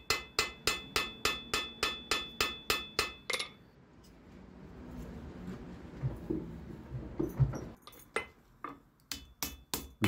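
A hammer rings against an anvil in a quick, even rhythm of about a dozen sharp strikes on hot steel forging a medieval bodkin arrowhead, then a pause of rustling before the blows resume.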